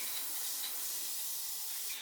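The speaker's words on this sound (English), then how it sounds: "turn the spray can upside down and spray it" An upside-down spray paint can hisses in one steady, close burst while weathering model railroad gondola cars, with no talking over it.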